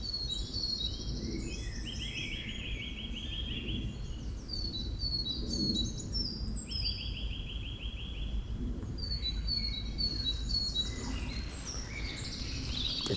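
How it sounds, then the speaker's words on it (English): Birds singing beside a stream in spring in a quiet countryside fishing spot, with scattered chirps and trills coming and going over a steady rushing water background, the song fairly distant and soft. "and you just listen to those birds."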